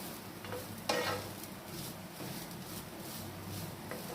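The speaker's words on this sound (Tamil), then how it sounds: "லைட்டாக வதக்கி எடுத்துக்கலாம். ஒரு 2 நிமிஷம் வதக்கினா போதும்." Grated coconut being lightly sautéed in a pan over low heat for a sweet coconut candy, giving a faint, steady sizzle with soft scraping stirs and one sharper clatter near the start, with no voices.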